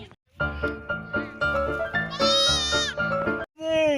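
A young goat kid bleats loudly and close by in a run of wavering cries, with brief pauses between calls and one sharper, higher bleat near the end.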